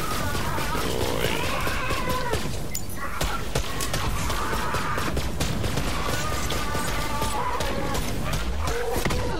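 Rapid gunfire in the video game Borderlands 3, dense bursts of shots and impacts cracking over game effects and music, loud and nearly continuous.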